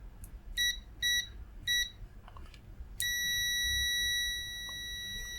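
An ANENG or UNI-T multimeter in continuity mode gives three short, quick beeps, then one sustained high beep lasting over a second. The beeps are clear and close against quiet background noise.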